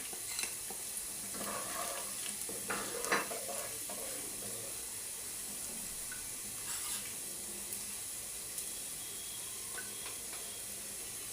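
Vegetables fry in a pan with shahi jeera, salt, cumin and pepper powder, giving a steady low sizzle throughout while a utensil stirs and scrapes in a few faint clustered bursts.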